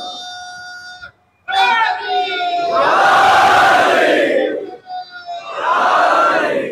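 A large crowd chants slogans in unison at a Muharram majlis gathering at Dargah Panja Sharif. Loud bursts of massed voices come in two long surges separated by a short pause, following a single voice leading the call.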